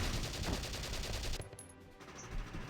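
Automatic gunfire in the video game Valkyria Chronicles, a dense loud rattle of rapid shots that cuts off abruptly partway through, leaving a quieter tail of softer game sounds.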